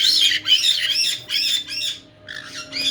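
Several birds squawk in rapid, harsh bursts close by, calls overlapping with brief pauses between them.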